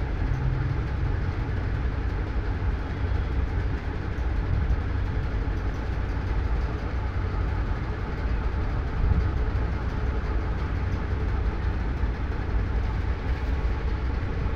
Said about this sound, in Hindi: तो अब इस तरह से हम सिलाई करते आएंगे।